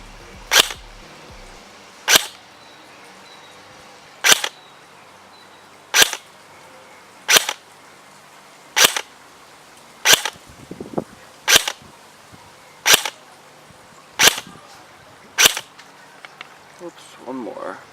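A KWA Ronin PDW airsoft gun fires 0.28 gram BBs on its lowest FPS setting: ten sharp, separate shots at a slow, even pace, each a crisp snap against a quiet background.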